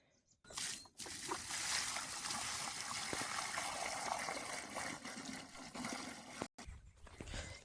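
Water pours and trickles steadily onto a plant for several seconds, a close, continuous splashing stream that stops briefly near the end.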